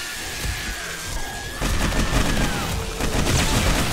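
Guns fire armor-piercing ammo in the survival game 7 Days to Die, a rapid loud fusillade of shots that intensifies partway through, with a faint whistling tone underneath.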